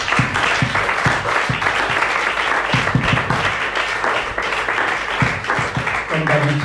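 Congregation in a church clapping together in worship, sustained applause with rhythmic beats, loud and close, with voices mixed in beneath.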